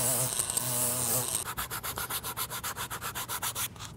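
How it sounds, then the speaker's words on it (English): A Dremel rotary tool sands a foam prop bow, first a steady high whine, then a rapid pulsing grind as the bit bites in repeated close, loud strokes, with no talking. "I'll come in with the Dremel and just clean that all up."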